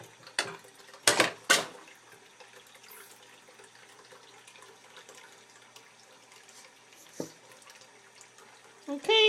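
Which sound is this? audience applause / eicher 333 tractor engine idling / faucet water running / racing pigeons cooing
faucet water running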